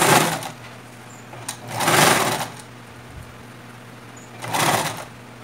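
A sewing machine stitching an elastic casing on a tulle tutu skirt, running in three short bursts of rapid mechanical whirring separated by quiet pauses, loud and close.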